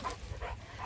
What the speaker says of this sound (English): the little dog that's here is on the playground